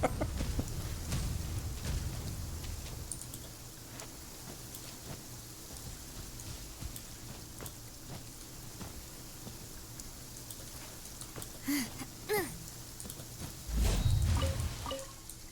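Steady rain patters throughout in Genshin Impact, with low rumbles of thunder at the start and a louder thunder roll near the end, and no talking.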